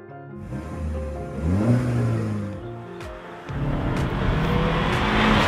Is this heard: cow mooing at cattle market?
no